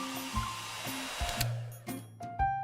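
A hair dryer from the video game Love and Deepspace blows steadily at moderate level, with brief chimes and interface tones layered over the continuous airflow.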